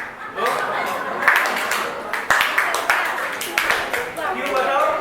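Students clapping in a classroom: scattered hand claps and a few sharper slaps under ongoing speech, with some chuckling.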